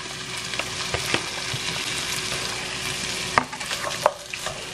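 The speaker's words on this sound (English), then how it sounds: "We're going to dump our onions in with it." Onions dumped into a pan with decased sausage, frying with a constant close sizzle and a few sharp stirring scrapes and knocks.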